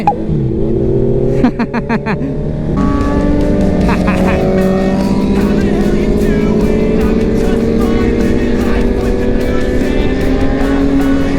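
Motorcycle engines rev and roar loudly and continuously at a street-corner gathering in Chonburi, Thailand, with sustained throttle blips layered over a dense crowd background.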